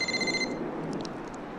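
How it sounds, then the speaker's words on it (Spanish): Mobile phone ringing, with a short electronic ringtone burst at moderate distance that stops after about half a second, followed by faint chirping tones over room noise. "Matilde, mi celular."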